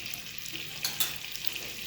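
Garlic frying in butter in a hot pan, giving a steady, close broadband sizzle with a couple of brief louder crackles partway through.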